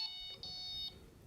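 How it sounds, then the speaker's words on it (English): A Txi-D movement-detection alarm being switched on gives two clear, high electronic beeps in quick succession, each lasting about a third to half a second, close and clean against a quiet background. "So if I set the alarm, I turn the alarm on,"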